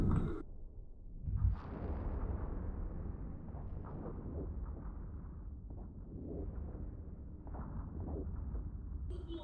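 Weapons fire from an enemy ship in a space combat video game, a quiet series of muffled blasts and bursts with a whooshing rumble between them.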